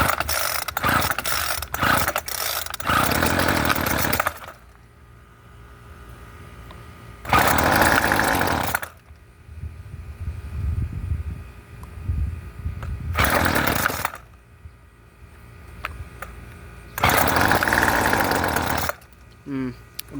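A Featherlite string trimmer on choke fires up in loud bursts: several short pull-start rattles, then stretches of rough running that die away, with quiet gaps between the attempts.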